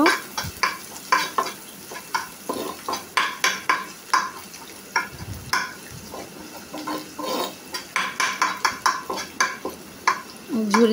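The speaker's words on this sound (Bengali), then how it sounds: "আমি ডিমটা ঝুরি করে ভেজে নেব।" An egg is scrambled and fried in a pan as part of a noodle and pasta snack. A spatula clacks and scrapes against the pan in quick, uneven bursts over a soft, continuous sizzle, with no talking.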